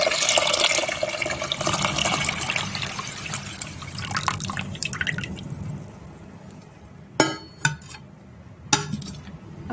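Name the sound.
adding water to lentils in a pot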